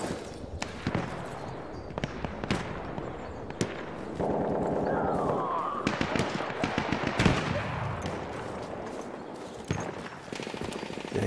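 Battlefield 1 multiplayer combat: repeated sharp gunshots and rapid bursts of automatic fire, some near and loud, others farther off, crackling through a noisy battlefield backdrop for the whole stretch.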